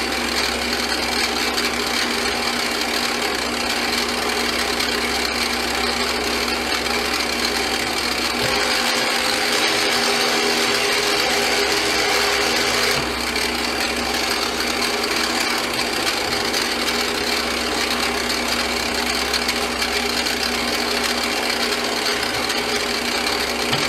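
A metal lathe turns down the end of a part for a timecode generator mount, giving a steady whirring hum and a constant high-pitched cutting hiss that runs without a break.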